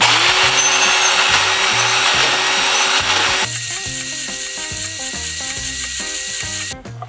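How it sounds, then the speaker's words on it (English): A power drill spinning a scouring pad wrapped around a drill bit to clean out bolt holes whirs steadily with a mechanical, ratcheting buzz, running continuously for several seconds before cutting off near the end. "scotch pad there wrapped around a drill bit just to give that a clean out"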